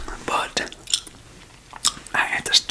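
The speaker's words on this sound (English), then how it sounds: "I had to chew like this to get a better sound of the gum out to y'all" Whispered gum chewing up close, wet smacking and clicking bursts in irregular clusters with soft whispered talk between them.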